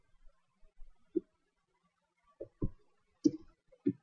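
Computer keyboard keys click for copy and paste shortcuts, a handful of quiet, sparse taps scattered irregularly over a few seconds in an otherwise silent room.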